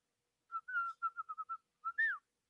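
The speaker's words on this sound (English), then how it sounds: "how do you whistle that?" A person whistles a short tune of about nine clear, quick notes in a quiet indoor setting, ending with a rising-and-falling slide.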